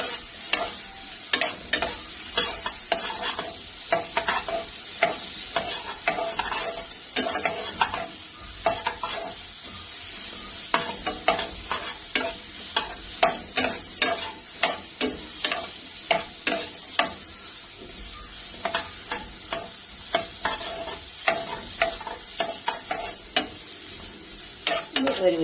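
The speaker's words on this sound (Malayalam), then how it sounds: "ആ ബ്രോക്കോളി ഇതിലേക്ക് ഇട്ട് വെക്കാം. ഇതുപോലെ ഇങ്ങനെ വാടി വെക്കെ." Broccoli stir-fries in a pan with a continuous close sizzle, broken by frequent rhythmic scrapes and knocks of a spatula tossing the florets, busy and even across the whole stretch with no talking.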